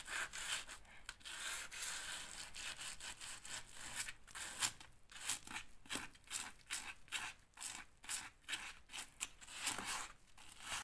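Dried Zinsser BIN primer being hand-sanded along a crack in a skirting board in an old house, a soft, close, rhythmic rasp of back-and-forth strokes that speeds up toward the end, with no talking.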